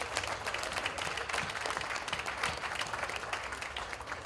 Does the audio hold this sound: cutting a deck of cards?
no